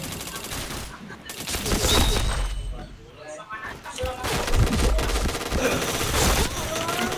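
Gunfire in a shooter video game rattles in dense, overlapping bursts of shots and booms that keep on nearly throughout, loud and close, with a short lull in the middle.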